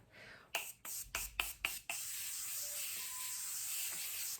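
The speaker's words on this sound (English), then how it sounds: "a nice liberal spray of your setting spray is great" Setting spray misted over a face during a makeup routine: five or six short, sharp pump-spray hisses in quick succession, fairly close, followed by a softer steady background hiss.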